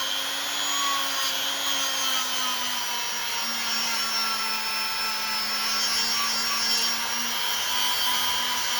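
A handheld rotary tool sands a knife blade, giving a steady close high-pitched whine with a slowly drifting pitch and a gritty abrasive hiss that runs unbroken for about nine seconds.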